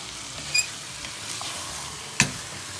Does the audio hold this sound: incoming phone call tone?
no